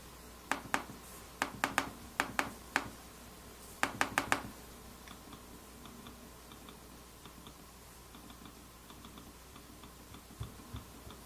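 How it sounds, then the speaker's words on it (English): Sharp, light clicks from a 2015 MacBook Pro with Retina Display trackpad come in quick pairs and small clusters at close range, then fade to a few faint taps in a quiet room. "you still get a clicking sound, but it's a little different than the traditional trackpad"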